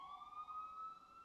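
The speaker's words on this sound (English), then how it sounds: "we already got our second siren" An emergency siren wails outside, faint and distant, as one steady sustained tone that drifts slowly in pitch, with no talking over it.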